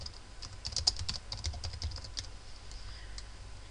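Rapid typing on a computer keyboard while writing in WordPad on Windows 7: a steady run of light, close key clicks with uneven rhythm and occasional sharper taps, and no voices.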